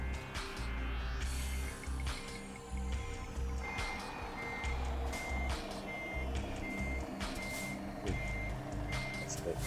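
A truck towing a trailer backs up in Euro Truck Simulator 2, with regular reversing beeps repeating steadily over a low diesel engine rumble and hum.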